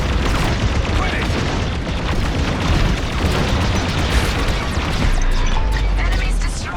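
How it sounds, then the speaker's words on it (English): A jamming ship blows up in the Star Wars Squadrons space-combat game, a loud, dense wall of booming explosion rumble and crackling debris that roars without a break from start to finish. "Jamming ship destroyed"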